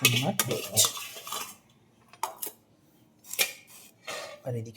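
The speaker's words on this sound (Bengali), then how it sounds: "চলুন এবার চিলি চিকেনটা বেড়ে ফেলি" Utensils and dishes clatter as chili chicken is served, with clinks and scrapes in irregular bursts separated by brief pauses, close and fairly loud, with some talk mixed in.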